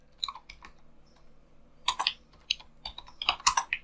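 Keys on a computer keyboard are pressed, including the Tab key, while a letter is typed in MS Word: scattered close clicks, quiet at first, then a denser burst of taps toward the end.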